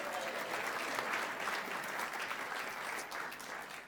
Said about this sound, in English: Let's have a round of applause for Renee.